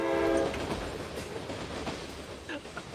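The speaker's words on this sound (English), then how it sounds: "The train's about to hit it!" A train in the Farming Simulator 25 video game rumbles past with a steady roar, and its horn sounds loud at first before fading, under the noise of the moving cars.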